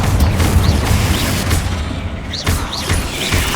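Loud, close magical blasts from the Confringo spell in Hogwarts Legacy boom and crackle in quick succession over a dense, rumbling background of game noise.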